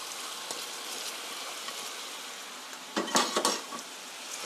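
Chicken and cabbage stir-fry being turned in a pan: a hissing wash of sizzle, then a brief cluster of metal clatters and scrapes from the utensil against the pan, close and without talk.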